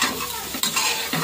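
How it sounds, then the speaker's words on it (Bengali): Soybean chunks fry in a pan with a bright, continuous sizzle, broken by a couple of quick stirring scrapes from a utensil. "আর সয়াবিনটা আস্তে আস্তে ভাজা হতে থাকে।"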